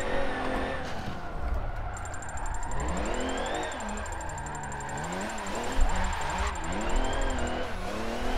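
A Nissan S13 drifts in Forza 7, its engine droning and revving in wavering pitch while tires squeal steadily through a long slide, heard from the driver's first-person view.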